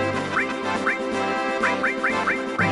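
A bird enemy in the PS1 game Final Fantasy VII quacks again and again, short nasal calls arriving in quick uneven bursts over a constant droning game soundtrack.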